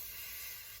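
A short, steady hiss of spray primer being applied in a light coat to a 3D printed sword, close and continuous before cutting off abruptly.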